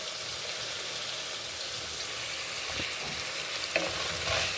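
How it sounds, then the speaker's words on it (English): Beef stew mixture with beef masala being stirred in a hot pot, a steady sizzle under the scrape of a spoon, with a couple of sharper knocks near the end. "So now we can stir our mixture"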